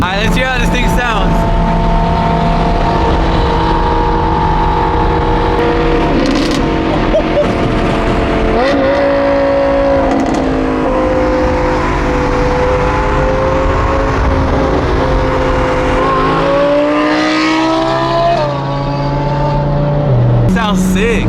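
A loud, raspy straight-piped Audi R8 exhaust drones and revs up and down continuously, rising and falling in pitch, close and unbroken throughout.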